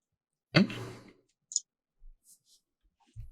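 Dice rolled for a tinker roll during a tabletop role-playing session, a short rattling clatter of three dice followed by a few faint scattered clicks, then quiet.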